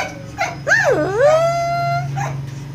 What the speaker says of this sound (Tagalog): Paano yung tahol?